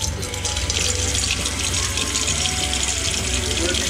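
Water gushes steadily from a tap aboard a boat in the Exumas, a loud continuous splashing rush that fills the whole stretch.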